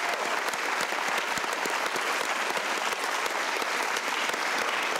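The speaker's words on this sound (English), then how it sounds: "How about a round of applause for all the candidates who took part tonight?" A large audience at a 2023 Memphis mayoral debate gives the candidates a steady, dense round of clapping that holds evenly loud for the whole stretch.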